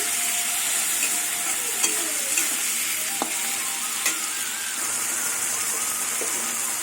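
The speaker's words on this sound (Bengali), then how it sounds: "এবার চিংড়ি মাছটা ভাজবো" Prawns coated in salt and turmeric fry in a hot pan with a loud, steady, close sizzle, broken now and then by small pops and clicks.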